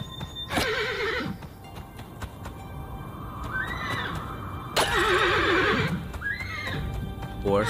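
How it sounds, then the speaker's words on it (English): Horses neigh in the Western shooter game Colt Canyon: two loud, shrill whinnies, one near the start and one near the end, with galloping clip-clop and other game sounds between them. "Horses."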